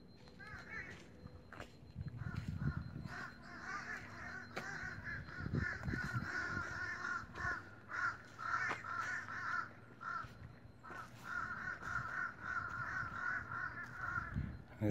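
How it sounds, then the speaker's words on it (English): Crows caw loudly and repeatedly outdoors in Chesilhurst, New Jersey, harsh calls overlapping across the whole stretch, with footsteps and someone talking intermittently underneath. "These birds are going crazy."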